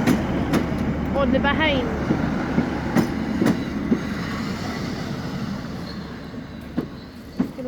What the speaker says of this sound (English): Lovely train. And there's your 156